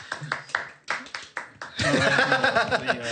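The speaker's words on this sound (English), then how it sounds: "Was that the applause that you were expecting?" A small audience claps for a guest being welcomed: a few spaced, separate claps and some talk first, then a denser burst of clapping mixed with chuckles and laughter.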